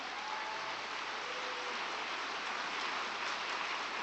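An audience at a Korean martial arts gathering applauds in thanks, giving a dense, steady wash of clapping that holds evenly throughout.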